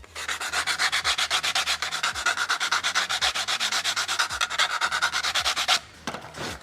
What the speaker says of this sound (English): ABS sand's really easy.